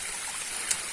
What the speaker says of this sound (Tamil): இந்த வழியாக தான் தண்ணி வந்துட்டுருக்கு இந்த சந்தில்